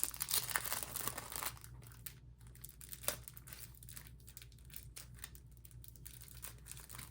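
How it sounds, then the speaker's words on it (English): Plastic mail packaging crinkles and crackles as it is pulled open, starting with a dense rustle and then breaking into scattered crunches and snaps, quiet and close with no voices. "I will cut out this part where I struggle with this plastic"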